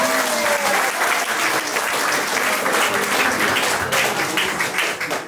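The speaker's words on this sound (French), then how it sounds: "On l'applaudit la mariée" Wedding guests applaud the bride in a steady, dense burst of clapping that fills the whole moment, loud and continuous with no speech over it.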